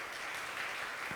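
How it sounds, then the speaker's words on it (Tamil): Audience applause at a church sermon, a brief, steady burst of many hands clapping together, even and moderately loud throughout. "ஒரு கைதட்டு கொடுப்போம்."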